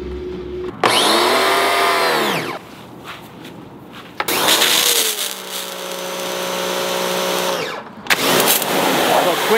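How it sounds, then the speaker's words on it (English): A Wholesun compact electric pressure washer with a 40 degree nozzle cycles on and off in loud, whining bursts with a motor hum, separated by short pauses, while a person talks in between. "let's go ahead and plug this thing in, hook a hose up to it, and try it out."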